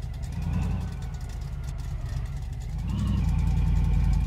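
A car with a rebuilt engine full of used parts revs hard in an attempt to smoke its tires, a steady loud engine drone that swells louder partway through without any clear tire squeal.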